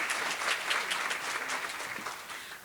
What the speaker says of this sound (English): Let's give a big round of applause for Julie.